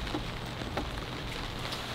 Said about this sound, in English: I'll head outside now into the rain and get the tree.